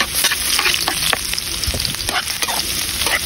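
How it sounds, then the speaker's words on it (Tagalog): Garlic for sinangag garlic rice frying in reduced oil, a loud dense steady sizzle close by with light crackles and occasional stirring scrapes, with no talking. "Isa na natin ang bawang"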